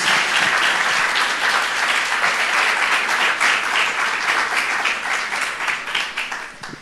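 A church congregation claps together in warm, continuous applause, close and dense, easing slightly as it draws to a close.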